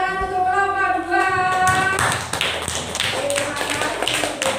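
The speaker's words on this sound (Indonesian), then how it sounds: "beri tepuk tangan untuk kelompok 2" In a classroom, students break into applause for group 2 right after a voice stops, a burst of close, irregular hand claps that carries on to the end.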